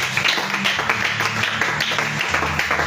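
A church congregation at a prayer service claps and cheers together, a sustained wash of applause with voices rising underneath, fairly loud throughout.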